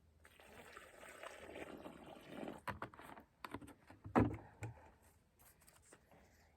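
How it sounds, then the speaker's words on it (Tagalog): Water is poured into a freshly dug planting hole in soil, a soft trickling splash that swells in uneven bursts with a louder gush near the end, faint and close. "lalagyan ko muna ng tubig yung hinukay kong"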